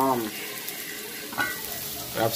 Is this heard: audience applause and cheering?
no